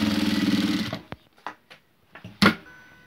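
Sewing machine stitching a fabric banner, a close rapid mechanical chatter for about a second, followed by several isolated clicks and knocks of handling the machine and cloth.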